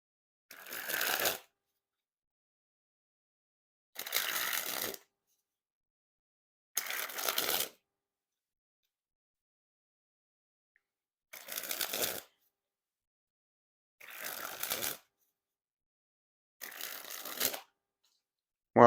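Playing cards from a Warner Brothers 100th Anniversary deck sprung from hand to hand, six separate brisk riffling bursts about a second long, each followed by silence, close and moderately loud.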